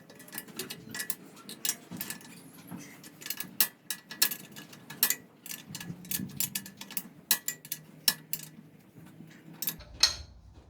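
Bolts being refitted to a vehicle's swivel hub, producing many quiet metallic ratchet clicks and taps that come in uneven bursts, close by and with no talking.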